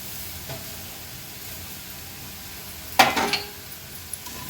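Crispy dried baby shrimp are tipped into a masala for an Agri Koli style chutney and stirred, giving one short rustling, crackling burst partway through against a faint steady background.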